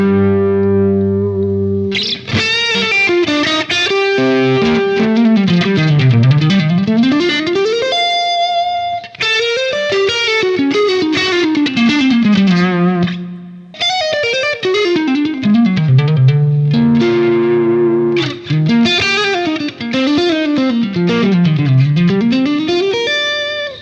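Electric guitar played through a Fractal FM3 modeler on a Trainwreck Wreckers amp preset, overdriven and slightly reverberant, with sustained chords and sweeping melodic runs that repeat in phrases, loud and alone.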